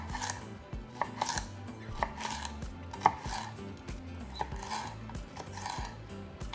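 Knife slicing seeded jalapeños into strips on a cutting board, a steady run of close, crisp chopping taps with occasional sharper knocks, no talking.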